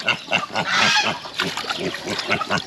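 A hungry farm piglet at feeding time squeals and grunts in quick repeated bursts close by, one longer shrill cry standing out in the middle of the run.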